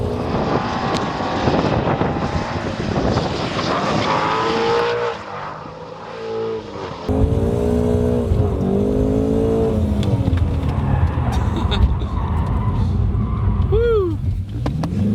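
Shelby GT350 drifting around a race track, its engine roaring and revving in loud surges with pitch sweeping up and down through throttle stabs, and tyre squeal near the end, with people talking over it.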